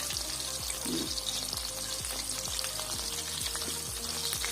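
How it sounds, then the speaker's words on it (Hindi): Chicken strips fry in a pan with a steady, close, dense sizzle and crackle that holds evenly throughout, with no voices. "अब दूसरी साइड से इनको 3 मिनट के लिए फ्राई करती हूँ"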